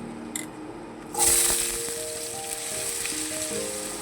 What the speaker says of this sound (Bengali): আলুটা আমি দিয়ে দেবো ভাজার মধ্যে।